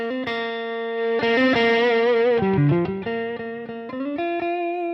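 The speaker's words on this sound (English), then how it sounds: "as I roll it back, I'll get less drive. Hear the way that's cleaned up?" A sustained electric guitar riff with gritty overdrive that eases into a cleaner, softer tone as the drive is rolled back with a volume control on a Boss ES-8 switching system; no talking.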